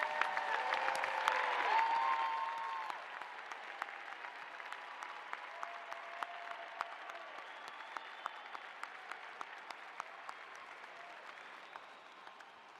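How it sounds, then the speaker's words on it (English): A university commencement audience applauds honors graduates in a large hall; the clapping starts fuller, then settles into a thin, distant patter of scattered claps that continues throughout. "will you please stand so that we can applaud your accomplishment?"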